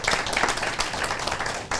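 A round of applause breaks out from an audience at a 2021 Hall of Fame announcement event, a steady, dense patter of many hands clapping at close range without pause.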